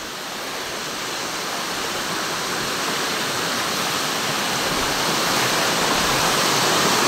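Banti Falls pours down steadily as a loud, continuous broadband roar of falling water, close and unbroken, slowly swelling in strength with no voices over it.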